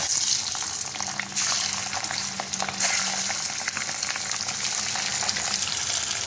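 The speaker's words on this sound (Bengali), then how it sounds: "এখন কড়াইতে তেল গরম হয়ে গেছে, আমি ডিমগুলো ভালো করে ভেজে নেব।" Eggs fry in hot oil in a wok, giving a loud, dense, continuous sizzle and spatter close up, with a couple of sharper crackling flare-ups partway through.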